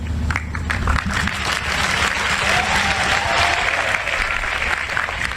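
Sustained applause from a live show audience, a dense wash of clapping that stays steady and loud for several seconds with some crowd murmur underneath.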